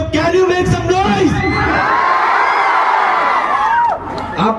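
A school crowd of children at an inauguration ceremony cheers and shouts loudly, a dense roar of young voices with whoops rising and falling, close and sustained throughout.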